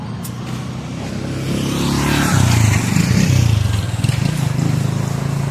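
A trail motorcycle engine runs steadily and loudly throughout, its low rumble swelling as the bike rides past close by, with no talk over it.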